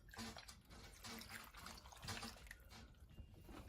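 A can of water pours into a cooking pan, giving soft, intermittent splashing and gurgling bursts close by, fairly quiet, with a sharp knock at the very end.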